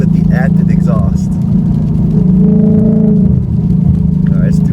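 A Ford Mustang GT S550 V8 with active exhaust drones loudly at highway speed around 100 mph, a steady low engine rumble heard under someone talking throughout.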